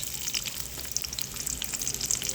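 Onion frying in a little oil in a pan, a soft crackling sizzle with scattered sharp pops and spits, fairly quiet and close, with no talking.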